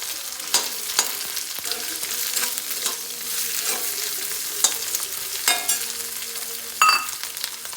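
Boiled potatoes and chili sizzling in a hot pan, a steady fry hiss broken by scraping stirs and clinks of a spatula, close and even, with no talking.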